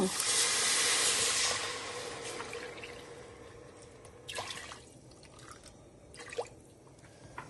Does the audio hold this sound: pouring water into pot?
yes